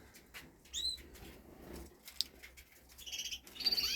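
Raza canaries in a breeding room give brief high chirps and twittering calls, with fluttering wing sounds between them, close but fairly soft, with no talking.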